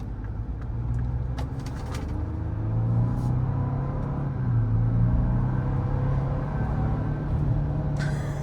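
A 2025 Ford Ranger Lariat 4x4 pickup drives along with a low, steady engine and road rumble from inside the cab, swelling slightly under throttle, with faint rattles and clicks.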